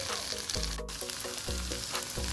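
Shrimp sizzling in butter on a grill, frying to a crisp shell; a steady close hiss with a few brief clanks and tonal bursts, no talking.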